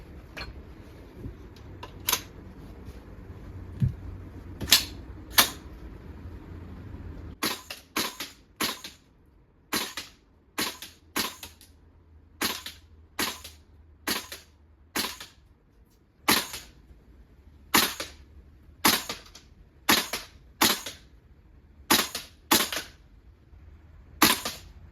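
A VFC V3 gas blowback airsoft rifle fires single sharp cracks, a couple of spaced shots at first, then a steady run of roughly twenty shots at a quick, even pace, close and loud with no talk.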